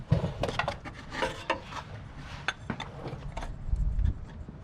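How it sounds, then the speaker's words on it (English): A cup-type oil filter wrench working on the oil filter under a 2004 Toyota Sienna: close metallic clinks, scraping and rubbing with a few sharp knocks, fairly loud, no speech. "I'm going to be using a cup type oil filter wrench"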